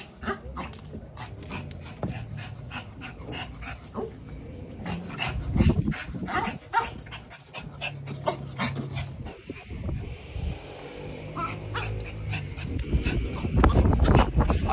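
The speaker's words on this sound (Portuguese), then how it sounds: "Só tem esse cachorro bravo aqui." An aggressive dog pants and gives occasional barks and whimpers close by, in a busy outdoor neighbourhood scene with people talking and ongoing background noise.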